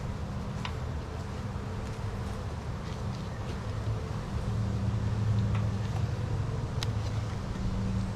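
Honey bees buzzing around an open hive during a hive inspection, a dense continuous drone swelling slightly louder midway, with occasional faint clicks and no voices.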